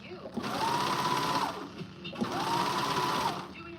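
A sewing machine on a zigzag stitch, sewing dancewear, hums through two bursts of rapid stitching with a short pause between, close by, with a voice faintly in the background.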